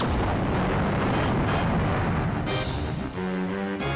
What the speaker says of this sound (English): make sure you don't shoot out of a cannon and miss